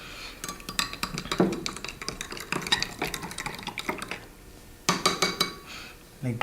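A spoon stirs water and soil in a cup during a classroom activity, making a quick series of close clinks and scrapes that pause and then burst again briefly. Faint voices are heard in the background.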